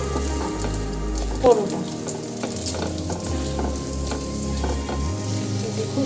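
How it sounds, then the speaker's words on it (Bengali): A paratha fries in a little oil on a hot pan, giving a close, steady sizzle with a few scrapes and clicks from turning it. No one speaks. "এক পিঠ হয়ে গেছে আবার আমি আরেক পিঠ ভেজে নিচ্ছি এবার আমি ওপর দিয়ে হালকা তেল দিই"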